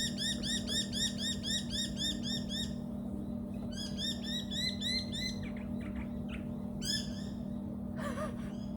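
Outdoor birds chirp in quick repeated runs of bright, high calls, clear and fairly close, with a shorter squawk near the end over a steady low hum.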